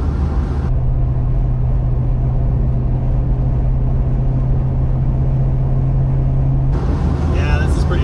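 A 1971 Plymouth 340 'Cuda with a rebuilt four-speed drives along, its engine a loud, steady low drone heard from inside the cabin, with a brief change in tone near the end.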